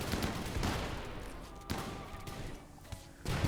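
Gunfire in the video game RimWorld, with several sharp shot bursts scattered among a busy, continuous background of game noise.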